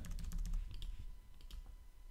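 A password is typed on a computer keyboard, a quick burst of close, crisp key clicks followed by a few scattered taps, quiet and alone.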